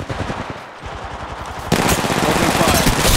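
Rapid automatic gunfire from the mobile battle royale shooter Apex Legends Mobile, a dense continuous burst that grows louder partway through, with game sounds layered over it.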